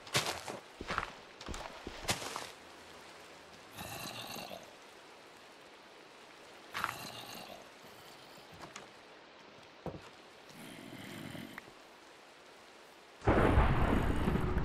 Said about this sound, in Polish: Tak, grzmi.